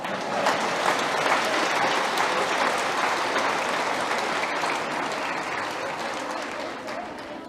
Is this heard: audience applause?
yes